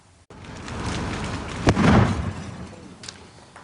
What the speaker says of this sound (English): what you heard was an explosion inside the mobile home that went up in flames